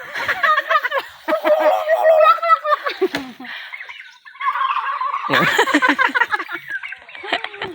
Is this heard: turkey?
yes